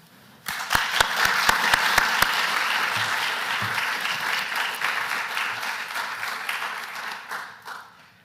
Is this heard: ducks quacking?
no